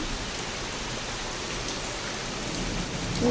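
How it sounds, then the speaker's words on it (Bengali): Heavy, steady rain pours down in an unbroken roar, a dense hiss spread evenly from start to end and growing slightly louder at the close, with no voices. "সকাল থেকে প্রচুর বৃষ্টি হচ্ছে"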